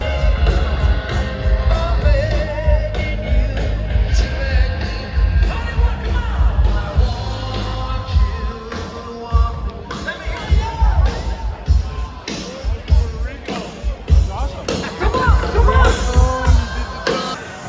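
A raucous crowd at a nighttime beach concert on Hollywood Beach, Florida: loud yells, whoops and cheering over thumping amplified music and dense chatter, close and continuous throughout.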